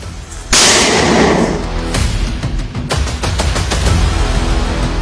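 A heavy artillery blast bursts out with a loud broadband roar, followed by lingering rumble and crackling echoes across open ground.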